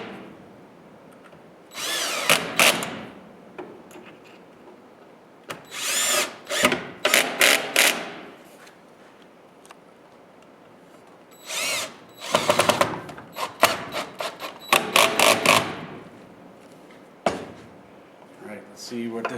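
A power drill drives screws back into a routed wooden table top, firing in several short, loud whirring bursts separated by quiet gaps and light handling noise.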